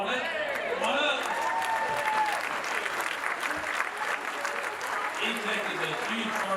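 Applause at an annual meeting and membership banquet, a steady wash of clapping from a crowd with voices talking and calling out over it throughout.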